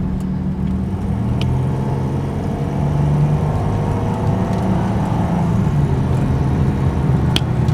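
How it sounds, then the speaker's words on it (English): A 2003 Jaguar X-Type accelerating at full throttle on a road, steady interior engine drone and tire rumble that swells slightly as speed builds, heard from inside the car with no talking. "I will floor it and see what it's going to do."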